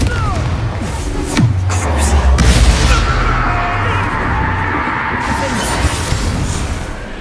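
A Confringo blasting spell goes off in the Hogwarts Legacy video game, a loud boom with a low rumbling impact and a crackling, shattering tail over a dense game soundscape.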